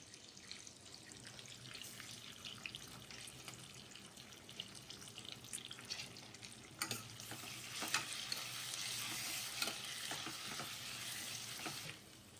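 Curry leaves fry in hot oil for raw mango pulihora, giving a soft, steady sizzle that swells louder and more crackly in the second half before stopping abruptly.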